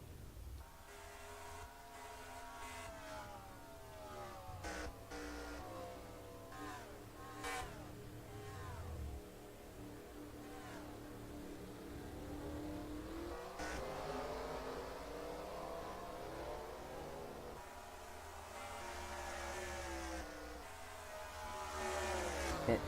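NASCAR race cars at Nashville sweep past on track in a sim race, engines rising and falling in pitch as several cars pass one after another, fairly faint and distant throughout.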